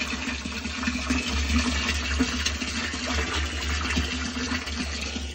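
Steady rush of rainwater being pumped into a barrel, with a continuous low motor hum and churning splash throughout.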